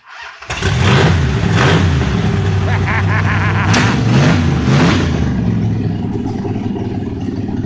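An engine cranks on its starter, catches within a second and then runs loudly and roughly at a steady idle, close by, easing slightly toward the end.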